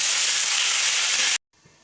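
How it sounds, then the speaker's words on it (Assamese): Ginger, garlic and chillies frying in oil for a pumpkin leaf chutney, making a loud, close, hissing sizzle that holds steady for over a second and then cuts off abruptly. "এতিয়াখিনি অলপ ভাজি ল'ম।"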